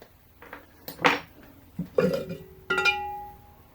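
Three loud, close burps in quick succession, each a short guttural eruption, with faint clinks of metal or dishes in the background.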